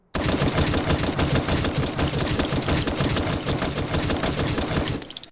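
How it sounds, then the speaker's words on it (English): An M16 rifle in the VR shooter The Last Player fires in a continuous rapid automatic burst, loud and close, running about five seconds before cutting off, with no talking. "we're going to be starting out with the M16"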